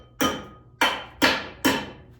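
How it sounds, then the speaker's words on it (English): Four loud, evenly spaced hammer blows, each a sharp metallic strike with a short ringing decay, land on a part inside a home-built diesel-electric submarine, with no talk between them. "I might be able to just hammer it over"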